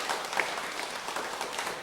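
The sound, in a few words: church congregation applauding to welcome a new member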